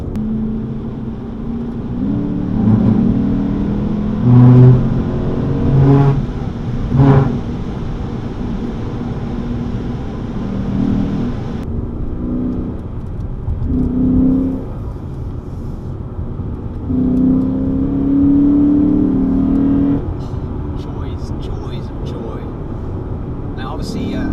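Engine of a 2020 Lexus GS F accelerating hard as the driver gets on the throttle in thinning traffic, a steady loud car drone with rising tonal engine pulls in bursts, heard from inside the cabin with someone talking over it.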